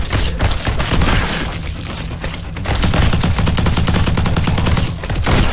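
Rapid shotgun blasts crack out in dense, overlapping bursts during a wave in the tower defence shooter GROSS, loud and close, with no talk over them.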